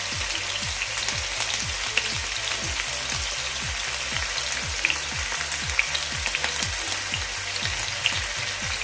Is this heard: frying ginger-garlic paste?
yes